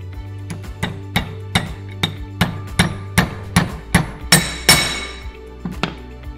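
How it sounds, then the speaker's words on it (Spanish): A hammer tapping a spring pin into a small HO-scale model train coupler part, about a dozen sharp metallic taps in a steady rhythm, close and clear, with a brief rattling clatter near the end. "vamos a ingresar el spring pin. Para eso cogemos el martillo"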